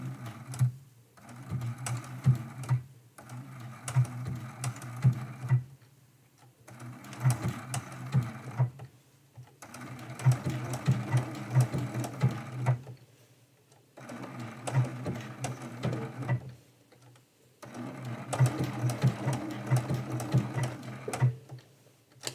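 Sewing machine stitching tiny blanket stitches on a quilt at 1.8 width and 1.8 length, a steady close mechanical whir in repeated bursts of a few seconds separated by brief pauses, with no talk.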